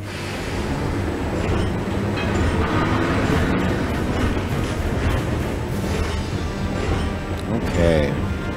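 A train in the Valkyria Chronicles 4 video game rumbles and clatters steadily for several seconds, a continuous rolling rail noise with rhythmic clacking, mixed with game sounds and voices.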